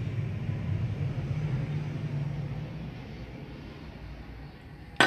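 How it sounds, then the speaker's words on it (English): Aeroplane flying overhead, a low droning rumble heard from indoors that is strongest at first and slowly fades over several seconds, ending in a brief sharp knock. "Aeroplane going overhead."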